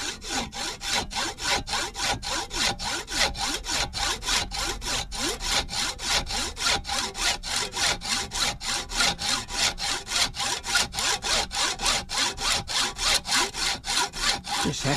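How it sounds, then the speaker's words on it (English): A hacksaw cuts small pieces off soft tin clamped in a vise with steady, even back-and-forth strokes, roughly three per second. The rasping is close and continues without a break. "I'm just going to very carefully hacksaw some small pieces off"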